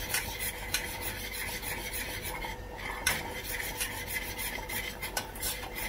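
A utensil rasps steadily against a pan while flour is stirred in hot cooking oil, with continuous gritty scraping strokes and occasional sharper scrapes, close and clear with no talking.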